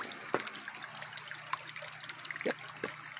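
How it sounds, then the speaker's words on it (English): A shallow creek babbles softly and steadily outdoors, its continuous gentle trickle broken by a few small splashes and drips, with no voices. "It's my babbling brook."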